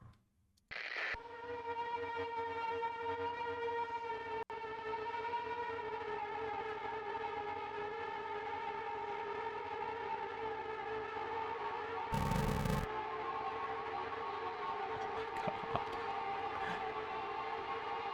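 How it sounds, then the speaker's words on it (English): A wailing air raid siren drones on continuously with layered rising tones, echoing and sustained, interrupted by a brief burst of noise partway through. "It sounds like bomb sirens."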